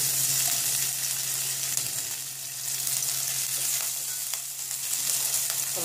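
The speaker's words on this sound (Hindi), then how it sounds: "हल्का फ्राई कर लेते हैं।" Green chili and ginger fry in hot oil with toasted cumin for poha, making a close, steady sizzling hiss throughout with a soft faint stir partway through, and no one speaking.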